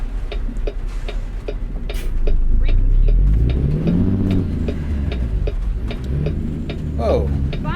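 A truck engine in American Truck Simulator drones low and steady, swelling as it revs, with a regular ticking indicator clicking over it and someone talking throughout.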